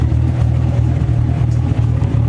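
Engine of a prepped track car idles and revs to around 2,500–3,000 RPM while warming up, a close, steady low rumble with slight pulsing and no talk.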